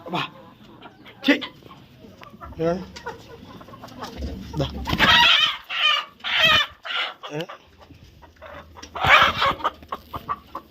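Backyard chickens being fed fresh vegetables cluck and squawk in short bursts close by, with people talking around them.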